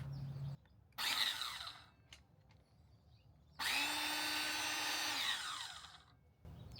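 A power saw whines through two bursts of cutting wood, the second longer and sustained, separated by a brief pause; loud and close.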